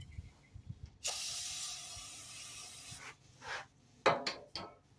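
Brake cleaner sprays in one long hissing burst onto the front and rear rotors of a 1989 Suzuki Swift, then a rag rubs and wipes the metal in short scrubbing strokes, close and with no voices.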